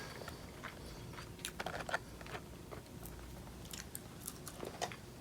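Close, quiet crunching and chewing of McDonald's shoestring fries, with irregular soft bites and mouth sounds over a faint background hiss and no talking.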